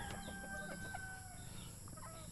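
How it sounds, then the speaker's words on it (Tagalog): Gamefowl fighting cocks, Texas-bred roosters kept by a backyard breeder, cluck and crow faintly across a quiet yard, with a steady hiss of background noise and no one speaking. "Pag-aalaga ng manok."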